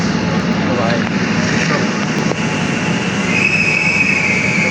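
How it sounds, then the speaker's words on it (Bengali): Metro train pulling into a station, a steady loud rumble with some squealing wheel tones near the end, while people talk over it. "এই আমাদের ট্রেন ঢুকে গেল পুরো ফাঁকা আছে"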